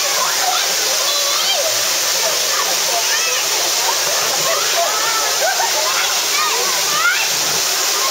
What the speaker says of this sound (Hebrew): זה המפלי. זה מפל מספר 2 אגב.